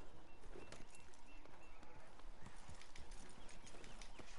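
Horse hooves clip-clop steadily in the video game Red Dead Redemption 2, a continuous trotting rhythm mixed with ambient outdoor game sounds.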